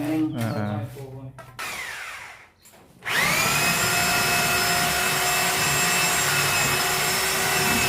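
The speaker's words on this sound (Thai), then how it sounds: "เอาดอกน้อยนะมาเจาะ" A small bit drills into a workpiece: scraping and rubbing for the first few seconds, a short pause, then a loud steady whine of the spinning drill.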